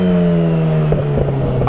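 A Yamaha XJ6 motorcycle engine idles with a steady low drone, then gives a few short throttle blips near the end, close by.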